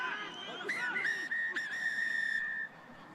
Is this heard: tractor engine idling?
no